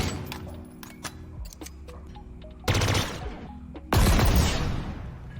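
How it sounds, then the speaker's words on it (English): Burst weapon fire in Halo Infinite, where a single shot plays as a three-round sound: two loud, dense bursts of rapid gunfire stand out over quieter background game noise. "Burst weapons make 3-shot sounds even though they only fire 1 shot."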